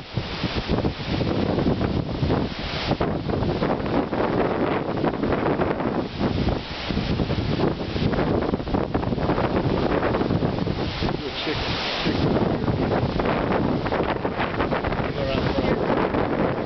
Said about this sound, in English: See how these trees are being blown.